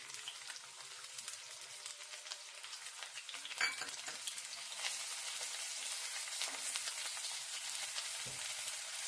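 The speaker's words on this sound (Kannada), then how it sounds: "ಇವಾಗ ಎಣ್ಣೆ ಕಾಯ್ದಿದೆ, ಈರುಳ್ಳಿ ಹಾಕೋಣ." Onions sizzling and frying steadily in hot oil in a pan for a cabbage and egg dish, a continuous close crackle with occasional stirring scrapes, no voices.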